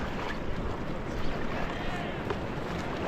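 A raft rowing through rapids on the Ganges at Rishikesh, with steady rushing water and wind noise that stays loud and even throughout.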